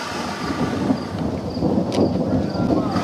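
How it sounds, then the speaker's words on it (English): Thunder rolls in a low, continuous rumble through an approaching storm, with rain hissing alongside it and a brief crackle near the middle. "That's bad thunder."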